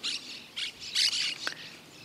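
Monk parakeet squawking while feeding in a wheat crop near Esperanza, Santa Fe, Argentina, a run of harsh, raspy calls in short bursts, fairly close and loud over quiet field background.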